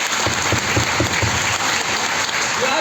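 A business-seminar audience bursts into loud, dense applause for attendees from Bihar, with a few rhythmic low thumps early and a voice briefly heard toward the end.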